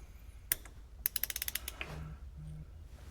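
Ratchet loosening the front wheel bearing nut on a classic GM car: one sharp click, then a quick run of about eight evenly spaced ratchet clicks, followed by faint creaks, close and fairly quiet.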